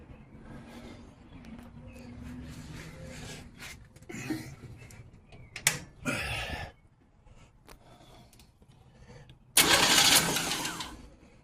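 A project car's engine cranks in a few uneven bursts with clicking in between, then fires with a loud rush that settles slightly, heard close up with no talking.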